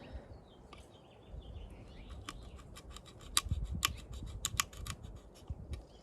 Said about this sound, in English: I find it less tedious to make many stop cuts and then go back and make the chip outs.